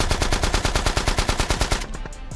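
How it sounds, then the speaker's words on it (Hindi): Rapid, evenly spaced gunshots in a video game pound out as a steady, loud automatic burst of roughly twenty rounds, then cut off and leave a quieter tail at the end. "अरे बंदूक की गोली कहाँ से आ रही है?"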